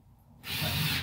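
A hammer drill bores into subfloor wood, starting abruptly and roaring loud and steady at close range for under a second, with no talk over it.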